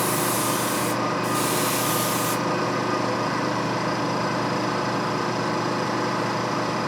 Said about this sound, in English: Airbrush isn't working too good, but you get the idea anyway.